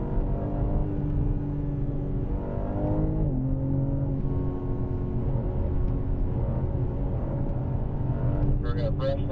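A BMW M4 on a race track, its engine a loud continuous drone with a dip and pitch shift as it brakes for a corner, then steady revving; a voice seems to talk over it.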